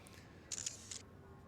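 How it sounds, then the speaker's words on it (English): Camera shutter in the Chaos;Head Noah video game, a quick burst of crisp mechanical clicks, two close together and then one more, against near silence. "the loud clicking sound of a camera shutter"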